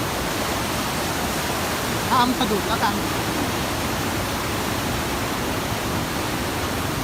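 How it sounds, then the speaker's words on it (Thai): Strong, fast-flowing water of a forest stream or waterfall roars as a steady broadband rush throughout, with someone speaking briefly over it near the middle. "น้ำไหลแรงมาก"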